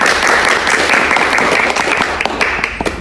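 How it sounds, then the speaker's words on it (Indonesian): Sustained applause from a group honouring a school data-analysis team that won third place nationally, steady dense clapping throughout that thins slightly toward the end, with no voices. "Tepuk tangan untuk mereka."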